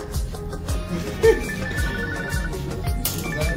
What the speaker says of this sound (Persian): گوشیم زنگ خورد.